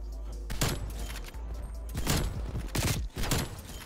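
Shots ring out in Black Ops Cold War, where a sniper with a thermal scope is in play, a few loud sharp blasts spaced unevenly with booming tails, mixed with game sounds and voices.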